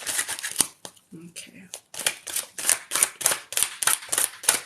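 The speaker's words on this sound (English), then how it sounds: "Let's give one more shuffle." Tarot and angel cards being shuffled by hand close up, a rapid series of sharp riffling snaps and flicks in bursts, with a brief pause and a short spoken word partway through.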